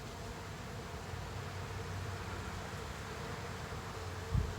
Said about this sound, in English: The bees are a little agitated.